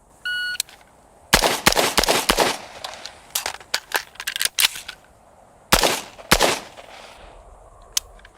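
A shot timer gives a sharp beep, then rifle shots crack out in quick bursts on an outdoor range during a F.A.S.T. drill, loud and close, with a pause before a final few shots.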